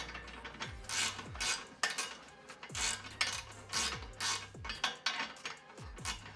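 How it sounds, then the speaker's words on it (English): Bolts on a transmission part of a 1986 Toyota Corolla GTS being tightened with a ratchet, quick bursts of clicking strokes repeating in a steady rhythm, close and fairly quiet, no talk. "Super easy bolt up. Couple bolts. Let's go ahead and tighten it up"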